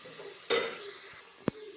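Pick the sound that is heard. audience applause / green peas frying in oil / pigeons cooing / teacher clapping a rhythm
green peas frying in oil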